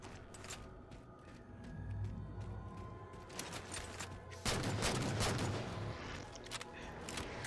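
DMR rifle fire in the Halo 4 Spartan Ops game, fairly quiet sharp cracks coming in irregular bursts among other battle noise, with a denser volley toward the end.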